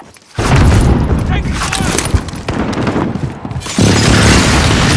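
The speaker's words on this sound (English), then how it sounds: "Enemy precision airstrike." Enemy precision airstrike explosions in Call of Duty: Modern Warfare burst in as loud booming blasts and crackling debris, sustained and close, with people talking over the din.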